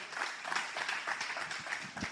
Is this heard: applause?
yes